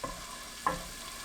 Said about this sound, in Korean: 팬에 식용유 1큰술, 다진 마늘 1큰술 넣고 중불로 볶아주세요.